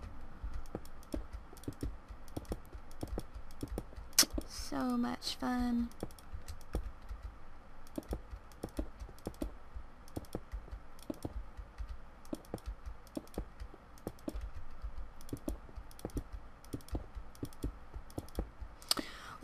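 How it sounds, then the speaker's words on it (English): Rapid mouse clicks while placing glass blocks in Minecraft, a steady stream of sharp, close taps running throughout, with someone briefly speaking partway through. "This is just gonna be me clicking glass over and over."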